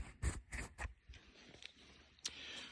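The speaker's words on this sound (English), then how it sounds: "I'm going to give my camera a wee wipe here" Hands wipe rain drops off a camera outdoors at Monea Castle near Enniskillen, making faint, close rubbing and brushing strokes: a quick run of three bursts, then a few softer scrapes over light background noise.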